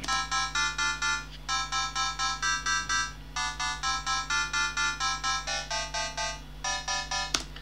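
A bright, plucked synth melody plays in quick repeating bursts of short notes, alone and fairly loud, with brief pauses between phrases.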